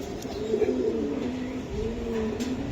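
Soft, repeated cooing from a pair of pigeons, a silver-khaki male and a female of a Giribaz high-flyer line, close by and alone with no talk.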